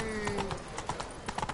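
Roach the horse's hooves clip-clop at a brisk trot through The Witcher 3, a quick run of close, sharp hoof strikes that speed up toward the end, with no talk over them.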